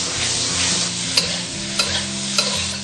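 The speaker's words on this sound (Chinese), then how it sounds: "大火翻炒均匀。" Mustard green stems stir-fry over high heat with salt, cooking wine and soy sauce. A loud, dense sizzle runs through it, and three distinct scraping tosses of the spatula are spaced evenly. There is no speech.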